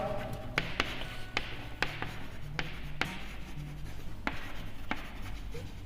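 Writing on a board during a physics lecture on capacitors: sharp taps and scratchy strokes recur irregularly over a low hum, close and moderately loud, without speech.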